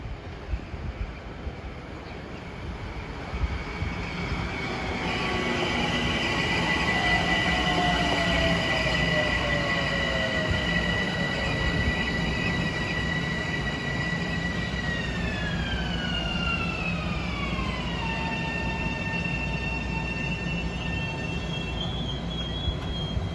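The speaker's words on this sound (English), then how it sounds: "here's train 741, Grand Central Croton Harmon at 352" Metro North train 741 from Grand Central to Croton Harmon passing Riverdale station, a long loud rumble with squealing wheels and shifting tonal whines that slide downward as it runs by.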